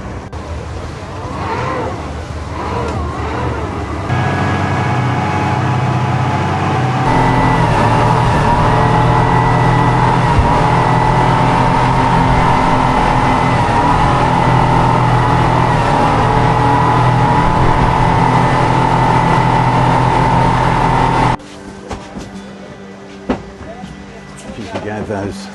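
Long-tail boat engines on the water off Phuket hold a loud, steady drone for about twenty seconds with throttles pushed hard. The roar cuts out abruptly near the end and quieter background noise follows.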